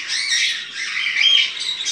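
A pair of graúna blackbirds gives harsh, squawking calls at close range, a continuous scratchy chatter lasting about two seconds with no talk over it.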